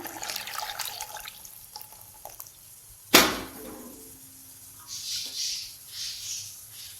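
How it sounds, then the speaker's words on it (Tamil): A sudden splash as tamarind water is poured into a pot of boiling water, followed by bubbling and sizzling that swells and fades in waves. "இப்போ நம்ம புளி தண்ணி சேர்த்துக்கலாம்"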